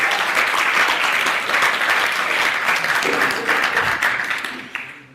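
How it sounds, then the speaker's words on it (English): Loud, sustained audience applause for Wendy at a conference, a dense wash of many hands clapping that holds steady and then tapers off near the end, with no talking over it. "She deserves a round of applause for what she's done"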